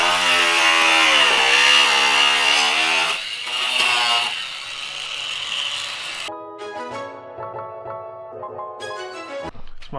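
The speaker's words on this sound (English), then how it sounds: "my pops is notching out the spot in the molding to fit this" A power tool cuts a notch into plastic bumper molding for a bash bar install, whining loudly and steadily for several seconds, then dropping into a lower, intermittent buzz as the cut finishes.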